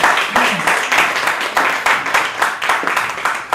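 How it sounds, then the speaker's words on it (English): Audience applause and clapping for a poet at an open mic night, close and loud, with steady dense clapping pulsing throughout and a few voices faintly underneath. "Don't hold back those claps, though."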